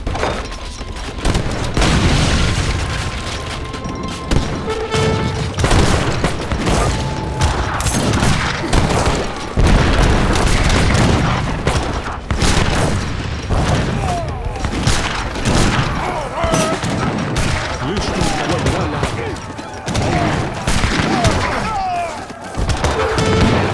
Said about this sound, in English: I come up behind his cannons and I actually destroy his cannons before I even engage his infantry